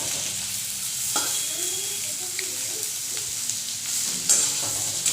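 Potatoes frying in a pan, a constant crackling sizzle with scraping stirring strokes over it and a couple of sharper clatters, close and fairly loud, with no speech.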